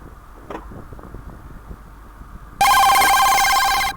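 An electronic phone ring in the horror game 00.15 bursts in loudly after a quiet stretch of low background noise and keeps trilling steadily to the end.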